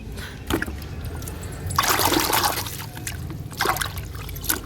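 Produce being peeled and washed under running water, with trickling, splashing bursts of water against hands and a bowl, rising and falling in short spells over a faint steady background.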